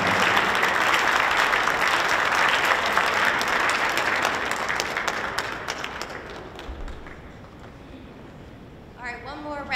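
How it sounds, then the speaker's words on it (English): A large school audience at an MLK Day scholars event claps loudly, the applause fading away over several seconds before a voice starts speaking near the end. "Let's give a big round of applause to your teachers and your staff"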